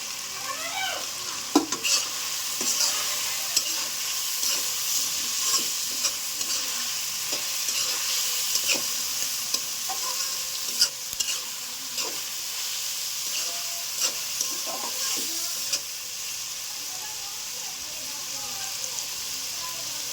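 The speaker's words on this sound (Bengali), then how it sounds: "এবার দিয়ে দিব পেঁয়াজ আর মরিচ কুচি" Chicken pieces stir-frying in a pan with chopped onion and chili, a steady close sizzle broken by repeated scraping and clinking of a spatula against the pan throughout.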